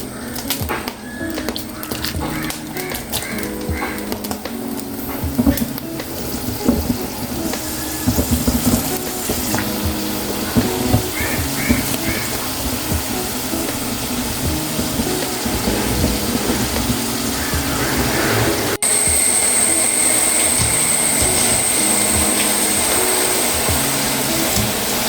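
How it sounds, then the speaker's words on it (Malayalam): Chopped jackfruit for jackfruit chips fries in hot oil, making a broad, continuous sizzle that grows louder and steadier toward the end, with some faint background clatter earlier on. "എണ്ണ നല്ല ചൂടായിരുന്ന അതിലേക്ക് നമുക്ക് അരിഞ്ഞു വെച്ചിരിക്കുന്ന ചക്ക ഇട്ട് കൊടുക്കാം."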